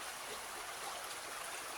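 River water flowing steadily through woods, a continuous broadband rushing and trickling with no voices, fairly quiet and even throughout.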